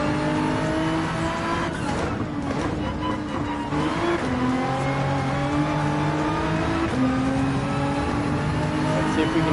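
A race car engine held at full throttle in Gran Turismo 7, droning loudly and continuously with a steady high whine and slight pitch shifts, with no break for the whole stretch.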